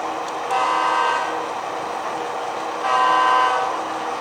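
A freight train horn in Orange, California sounds twice, two sustained blasts a couple of seconds apart, over a steady rumble of rail noise.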